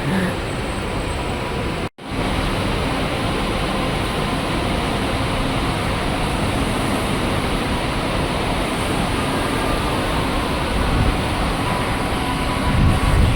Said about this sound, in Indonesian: seperti itu perjalanan awal naik LRT Jabodebek dari Bekasi Barat sampai ke Cawang